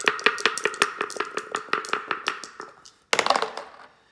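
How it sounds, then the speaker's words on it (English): Dice clatter onto a board during an Axis and Allies board game, a quick series of about a dozen sharp taps and thunks, then a second louder burst of rattling after a brief pause, close up with no talking. "They will fire back with 2 green die."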